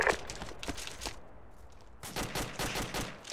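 Gunfire in the military shooter game Arma 2, with rapid bursts and single shots crackling at mid distance, a brief lull in the middle, then renewed heavy firing toward the end.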